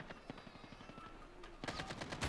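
Rapid machine gun bursts fire in the COD Mobile multiplayer game, a quick rhythmic string of sharp shots followed by a louder, denser volley near the end.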